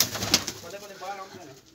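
Soft pigeon cooing with a low, warbling murmur, close by, with a brief rustle near the start.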